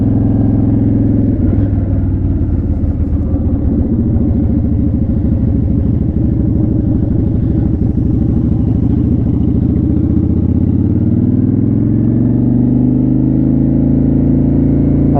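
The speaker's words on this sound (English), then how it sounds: "You guys think of the sound of this exhaust." A Honda Shadow motorcycle exhaust rumbles loud and close with a deep, throbbing low note while riding, the engine pitch shifting as it eases off and builds again, with no voices over it.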